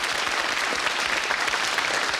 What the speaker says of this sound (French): vous méritez ces applaudissements